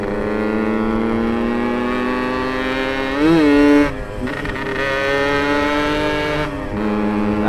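A Yamaha RX King two-stroke motorcycle rides along a road near Dieng, its engine a steady buzzing drone that rises sharply in pitch for a moment in a rev, then drops back to a constant cruising hum, close and loud.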